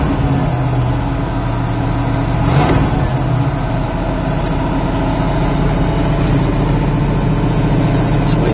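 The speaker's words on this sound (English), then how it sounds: "Motor's idling a little bit fast yet." A 1965 Pontiac GTO V8 idles slightly fast, a loud, steady low rumble close by, with a faint brief rise in pitch partway through.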